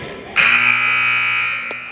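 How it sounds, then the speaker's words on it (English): Basketball game buzzer at a junior varsity boys' game sounds one loud, sustained electronic tone for over a second, standing alone and cutting off sharply. "There goes the buzzer."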